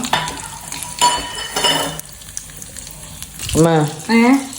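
Grapes are added to macaroni payasam in a hot pan; a spoon stirs and scrapes in short bursts over a soft sizzle, and a voice is heard briefly near the end.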